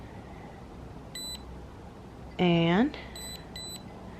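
A Ruko F11 GIM2 drone powers off: a short electronic beep, then a loud descending multi-tone chime, followed by two more brief beeps over quiet background hiss.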